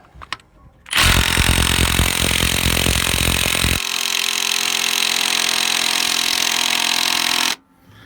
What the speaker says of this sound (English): Let's see if the mid torque can do a crank bolt.